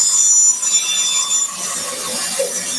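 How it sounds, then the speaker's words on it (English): A bandsaw rip-cuts a wooden board for a pet feeding station with a slow, steady feed, producing a close, continuous high-pitched whine and hiss of blade through wood that eases slightly toward the end. "Slow, steady feed through my bandsaw."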